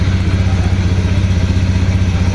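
A Honda Beat scooter engine idles just after a push start, a steady low throbbing hum with a faint clattery texture, running evenly and close by throughout.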